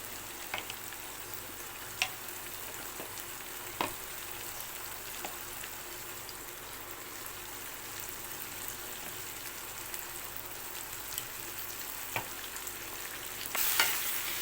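Prawns fry in a pan for a spicy prawn thokku, giving a steady, fairly quiet sizzle with a few sharp pops and crackles scattered through, and no talking.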